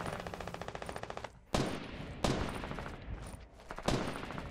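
Shooter game gunfire: a rapid automatic burst of evenly spaced shots, then three heavy, sharp single blasts that ring out and decay, loud and close.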